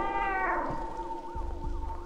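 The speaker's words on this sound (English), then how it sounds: "Oh, hey, little kitty." A cat gives a drawn-out meow, loud and close, followed by a few shorter, quieter mewing cries on a school grounds at night.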